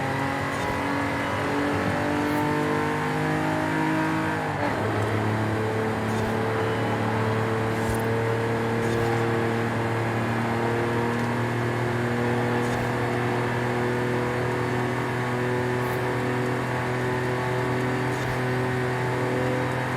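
A 1982 DeLorean DMC-12 engine drones steadily in a racing game, its tone holding smooth with one sharp drop and shift in pitch early on, then a continuous even hum at high revs, loud and alone.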